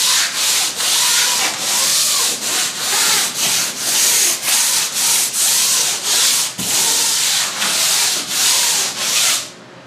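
Loud, rhythmic sanding of wood, repeated back-and-forth rasping strokes close by, about two per second, with no voices.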